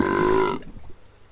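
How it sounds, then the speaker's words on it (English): A cartoon whale in the Dora the Explorer video game lets out a loud, deep, rumbling burp that lasts about half a second and then cuts off, leaving quiet rustling. "There's still something in that whale's tummy making him burp."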